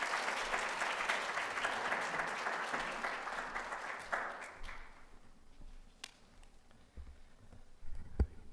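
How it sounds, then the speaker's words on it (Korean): Warm applause from a church congregation greets the pastor at a Korean Presbyterian Sunday service, a dense steady clapping that fades after about four seconds into scattered claps and room noise. "목사님 나오실 때 우리 따뜻한 박수로 맞이할까요?"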